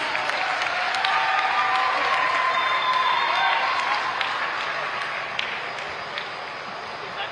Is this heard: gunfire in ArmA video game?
no